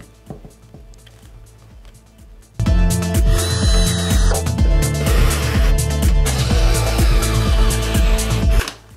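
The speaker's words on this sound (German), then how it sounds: "Dazu nehme ich einfach einen Dosenbohrer und bohre mal hier in den Kabelkanal ein Loch." A hole saw bores into a plastic cable duct in a workshop, starting after a quiet pause with a loud, steady whining grind and rattling chatter that runs for several seconds, then stops abruptly.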